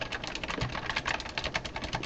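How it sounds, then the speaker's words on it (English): Keys on a computer keyboard clatter in quick, uneven runs of soft clicks near a PC with a running fan, fairly quiet and without talk. "if I'm also clicking on my keyboard, stuff like that"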